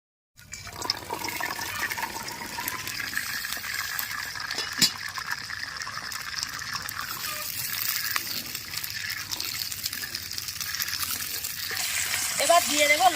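Karamcha fruit tipped into about 200 grams of hot mustard oil in a kadai set off a sudden sizzle that stays steady and close, growing slightly louder toward the end with stirring sounds.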